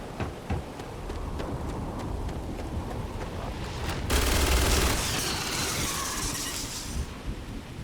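Gunfire from a weapon in the space game Starfield: a run of sharp shots through the opening seconds, then a louder, dense burst of crackling noise from about four to seven seconds, fairly close, with no talk.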